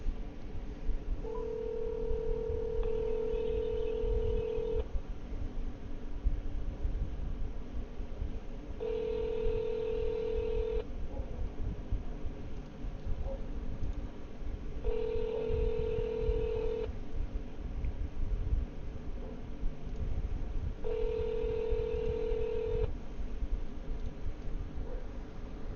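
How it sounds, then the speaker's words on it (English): A phone line placing a call to a number gives repeated ringback tones, four evenly spaced rings about six seconds apart over a constant hiss, with no talking. "I'm gonna call them and see"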